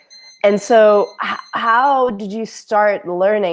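A bread machine beeps in a steady thin tone over a conversation, sitting faint and constant behind two people who keep talking throughout.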